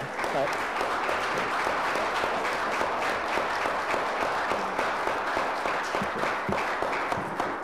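Applause in the chamber at an Ottawa city council meeting, dense and sustained clapping from the public gallery lasting several seconds at a fairly even level, with faint voices mixed underneath.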